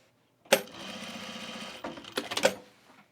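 A sewing machine bastes a hook and loop tab into the seam allowance of a travel bag, running in a steady stitching burst for over a second, then pausing briefly before two shorter loud runs close together.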